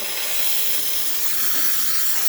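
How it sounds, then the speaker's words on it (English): The steam wand of a Lelit Elizabeth espresso machine hisses in a loud, continuous, close-up rush of steam that holds steady throughout. "And now we are going to test the steam."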